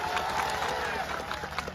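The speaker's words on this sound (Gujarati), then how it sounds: "એમની માટે જોરદાર તાળીઓ થઈ જાય" A crowd applauding for the police gives brief, loud, dense clapping with some cheering mixed in.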